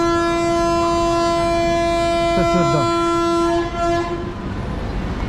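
A MEMU passenger train on the Rajahmundry–Vijayawada route sounds a loud, long, steady horn at a station, close by, with a brief spoken remark partway through.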